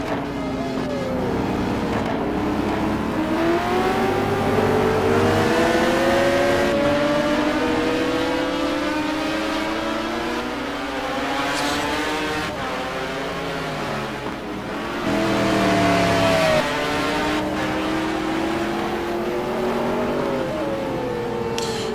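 Race cars in a racing video game roar around the Nurburgring during a qualifying race, engines revving and shifting continuously with cars passing close, loud and without talk.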